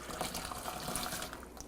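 Very hot water is poured over dried chili peppers in a pot for an old-time Texas red beef chili, a continuous soft splashing, gurgling pour that holds steady and fades slightly at the end, with no talk.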